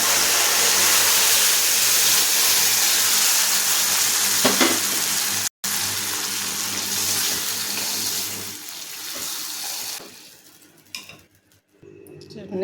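Cooked dal hits a hot tempering in a pan for spinach-mango dal, setting off a loud, close sizzle and bubbling that slowly dies down and grows quieter near the end.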